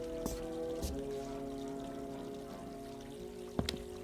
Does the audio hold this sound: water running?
yes